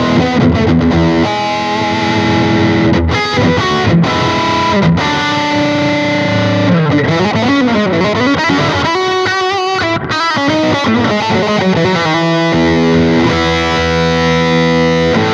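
Electric guitar played through an LSL Vital Distortion pedal, a loud, continuous stream of driven chords and sustained notes with no talking over it.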